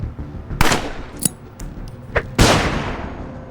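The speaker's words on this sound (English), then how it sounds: "the flash grenade" A flash grenade bursts in the Underrail game, two sharp broadband blasts with a decaying ring, along with a few smaller pops and clicks. The explosions are loud and close, and no voices are heard.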